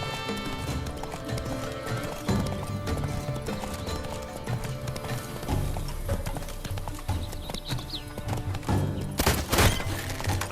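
A horse galloping in The Witcher 3 video game, with quick drumming hoofbeats over dense game music and ambience, a brief whinny and a loud burst near the end.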